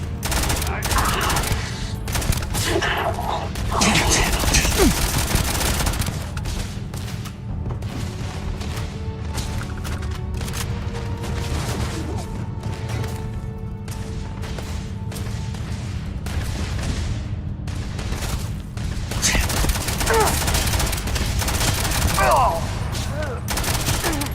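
Sustained rapid AK rifle gunfire in the Starfield video game, dense bursts rattling almost continuously over loud battle noise, with faint voices under the shooting.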